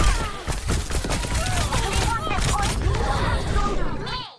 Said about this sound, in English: Here's the shooting.